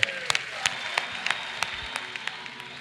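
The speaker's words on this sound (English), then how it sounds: "let's clap our hands for her" An audience at a youth camp couples discussion panel claps for someone speaker, a lively patter of hands with a few sharp, close individual claps standing out, continuing briefly without speech.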